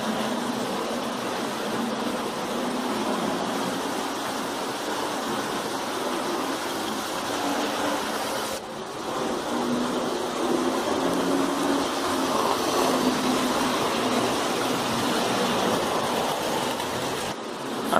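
A small electric model train, a brilliant little model with reverse and cabin lighting, runs with a steady, noisy motor whir and rumble that holds for the whole stretch.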